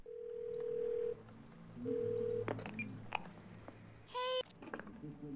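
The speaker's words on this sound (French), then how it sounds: "Avec son téléphone, si je l'appelle." Phone tones from the Twelve Minutes video game: two long steady tones, then a quick series of short dialing beeps and a sharp electronic chirp, fairly quiet with faint background noise.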